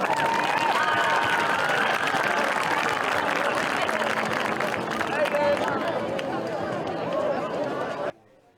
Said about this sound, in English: Let's give all of our court members a big round of applause.